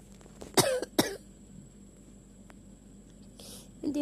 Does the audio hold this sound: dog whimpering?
no